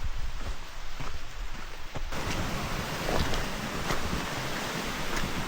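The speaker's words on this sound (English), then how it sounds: "Made it down to the river." A river flowing through a forest along an ancient riverbed on a cold, overcast day, a loud, steady broadband rush of water mixed with wind buffeting the microphone, with no voices.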